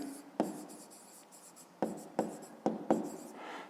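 Pen writing on paper while working a grade 5 math exercise: close, quiet scratchy strokes in short bursts with sharp taps as the pen touches down, several separate strokes spaced irregularly.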